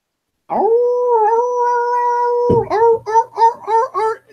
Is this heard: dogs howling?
yes